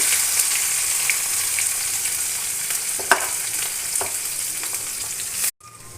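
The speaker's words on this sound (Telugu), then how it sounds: "ఇప్పుడు ఉల్లిపాయలు కొద్దిగా ఎర్రగా వేగాయి కదండి" Onions and green chillies fry with curry leaves in a pan, a steady close sizzle with occasional crackles and stirring scrapes, cutting off abruptly near the end.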